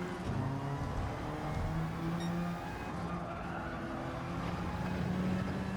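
Race car engines in Gran Turismo GT4-class racing, a steady droning motor note with a rival car pulling alongside and sailing past, continuous and fairly loud with no talk.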